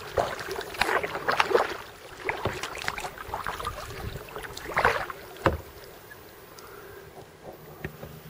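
Kayak paddling on the Gülper Havel, a quiet Brandenburg river closed to motorboats, with soft paddle splashes and drips at uneven intervals over faint insect buzzing and outdoor ambience.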